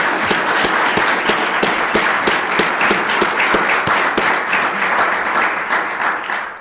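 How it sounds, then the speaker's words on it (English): An audience at a university distinguished teaching and research awards ceremony applauds former award recipients, steady full clapping at close range with sharp individual claps standing out, holding at an even level throughout before easing off at the very end. "Let's give them a round of applause."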